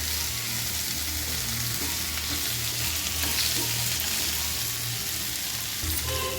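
Okra curry (vendakkai kadalama) frying in oil in a pan, giving a continuous, even sizzle with steady low bubbling throughout and no talking.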